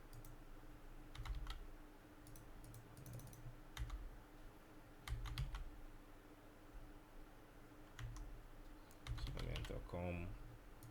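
Bursts of computer keyboard typing, quick clusters of clicks separated by pauses, moderately close but quiet over faint background hiss, with a voice speaking in places.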